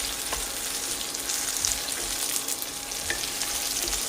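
Dried red chillies fry in oil with browned onion over a low to medium flame, producing a constant moderate crackling sizzle with a few small pops and stirs.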